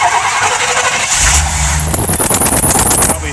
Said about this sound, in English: Crank her up and see how she runs.